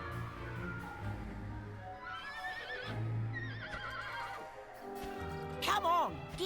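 A horse whinnies repeatedly in Dragon Quest VIII, drawn-out wavering neighs with light hoof clops amid a low musical drone, ending in a louder shrill cry.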